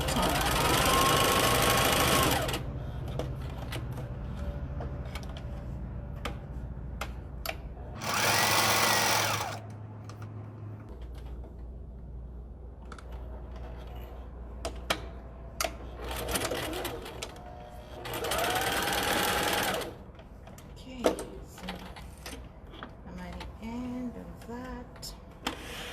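A sewing machine stitches a fabric makeup wipe in three loud, steady bursts of rapid needle chatter, separated by quieter pauses with small clicks and handling sounds while the fabric is turned at corners.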